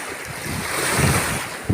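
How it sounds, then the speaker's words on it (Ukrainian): Gusting wind buffets the microphone over the wash of waves breaking nearby on an Italian beach, a rough, continuous roar with swelling surges. "Після обіда трошки вітер і хвилі."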